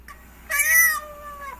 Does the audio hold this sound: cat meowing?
yes